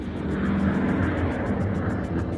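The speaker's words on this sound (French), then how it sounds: "Elle entendait le moteur rugir." A steady, loud roar from an airplane engine as the plane approaches, dense and continuous with a pulsing high whine on top.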